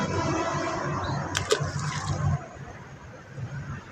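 Fish are released into a pond, water splashing and gushing in a brief burst before settling to a softer trickle.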